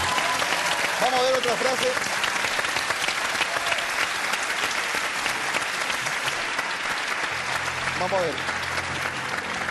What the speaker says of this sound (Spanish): Y este es el aplauso que reciben ustedes.